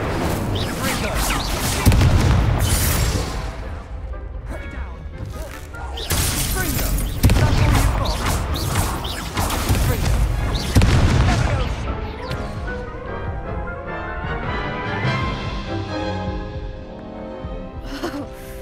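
Incendio fire spell blasts in Hogwarts Legacy, loud booming bursts and roaring fiery whooshes repeating every few seconds over game music, with a voice speaking throughout.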